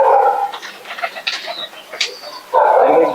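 Domestic pigeons coo in soft, repeated low calls at close range, with a dog barking intermittently and faint voices in the background.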